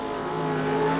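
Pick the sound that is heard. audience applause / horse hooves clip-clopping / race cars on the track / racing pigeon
race cars on the track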